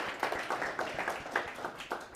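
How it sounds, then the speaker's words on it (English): Sparse, fairly quiet clapping from a small audience at a live business networking event in Calgary, with scattered uneven claps rather than a full ovation. "please give them a round of applause for believing in us and the city"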